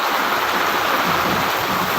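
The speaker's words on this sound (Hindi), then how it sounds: "देखो कितना पानी गिर रहा है," Heavy rain pouring down on the first rainy day in a village, a loud, dense, continuous hiss and roar of falling water with no pauses.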